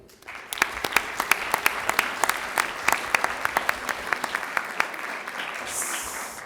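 Applause at a school board of education meeting during an award announcement for an All-State jazz choir student, a steady patter of many hands clapping with sharp individual claps standing out, continuing for several seconds before fading.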